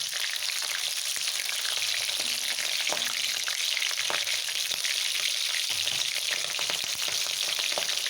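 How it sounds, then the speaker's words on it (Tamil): Mustard seeds, curry leaves and green chillies sauté in a pan for a capsicum dish, producing a continuous close hiss of frying oil dotted with faint pops and occasional soft stirring, steady in level throughout without any speech. "கடுகு போட்டாச்சு, கருவேப்பிலை போட்டாச்சு, பச்சை மிளகாய் போட்டாச்சு. இது நல்லா வதங்கட்டும்."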